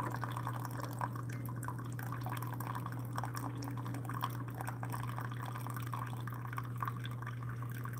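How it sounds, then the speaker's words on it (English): A Keurig K-Supreme Plus coffee maker pours a steady stream of hot water into a cup, a continuous close liquid gush with light splattering drips over a constant low machine hum. "it's a pretty nice stream coming out, but it does splatter a little bit."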